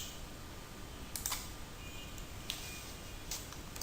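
A few soft computer mouse clicks in dental practice management software, with a faint click near the start, another in the middle and a last one near the end, sparse and quiet against low room hiss, with no talking.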